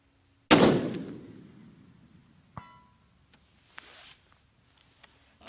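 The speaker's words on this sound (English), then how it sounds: "I'm shooting a steel target that's 12 inches wide by 20 inches tall." A rifle shot at a 12 by 20 inch steel target, a single loud sharp crack followed by a fading rumble, then a faint distant metallic ping and some small handling clicks.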